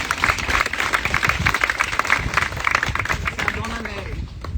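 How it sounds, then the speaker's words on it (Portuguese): Energetic congregation applause for Jesus at a church service, a loud continuous burst of many hands clapping with crowd voices mixed in, easing slightly as a voice begins speaking near the end. "Uma salva de palmas para Jesus"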